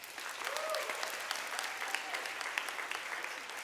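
An audience in a hall bursts into sustained applause as a vote at a university campaign launch, a dense steady wash of clapping with faint voices mixed in.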